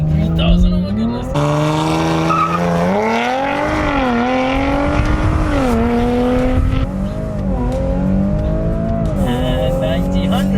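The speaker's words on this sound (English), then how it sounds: "start off an RS4 Review Quattro 4-wheel drive with some launch control" An Audi RS4 Quattro with four-wheel drive launches hard using launch control, its engine note climbing through rising revs with gear shifts, loud and close from inside the car, with someone talking over it.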